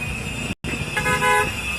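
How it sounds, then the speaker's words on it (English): A car horn honks twice nearby at a street protest in Miami, a brief toot followed by a longer, steady blare over road noise. "More honks of support."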